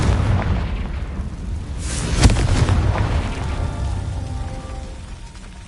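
A Confringo fire spell in Hogwarts Legacy bursts with one loud explosive boom in the middle, then a rumbling tail that slowly fades away.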